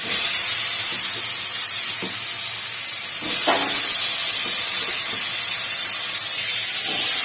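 Potatoes coated in salt and chilli powder sizzling in hot oil in a kadai: a steady, bright hiss throughout, which rises slightly as more pieces go in. A few soft knocks sit under the hiss.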